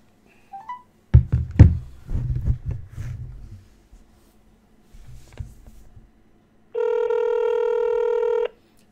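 Telephone number dialed during a call setup: a short run of keypad clicks and thumps, then a steady, loud multi-tone electronic beep lasting nearly two seconds, close and alone with no talk.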